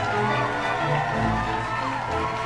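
A crowd cheering and whooping in one continuous roar, fairly distant and steady, with a few raised voices standing out.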